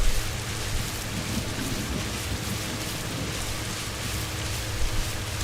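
Steady rain pours down continuously, a dense even hiss with low rumbling underneath, close and fairly loud throughout with no voices.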